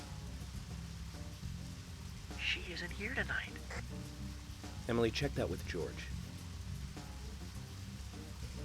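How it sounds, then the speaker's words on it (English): Steady rain falls in the horror video game Deadly Premonition, a soft constant hiss behind the scene. Characters talk over it in the middle of the clip. "It's raining."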